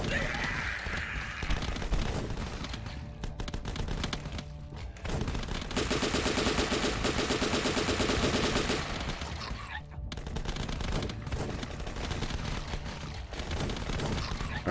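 Rapid gunfire from The Last Stand, with dense bursts of shots that keep going throughout, loud and close, and short pauses between volleys.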